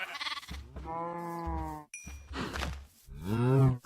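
Sheep bleat in the video game Minecraft, modpack Sky Factory, with cows nearby: a few distinct, loud, wavering bleats separated by short silences, with no talk.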